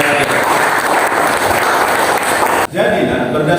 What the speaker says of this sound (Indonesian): Mari kita beri tepuk tangan sekali lagi.